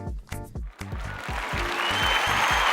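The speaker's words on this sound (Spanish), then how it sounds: "recibamos con un fuerte aplauso a nuestro invitado Carlos René Juárez Ceballos" A studio audience on a podcast applauds to welcome a guest. The clapping swells into steady, dense applause after a few rhythmic musical beats.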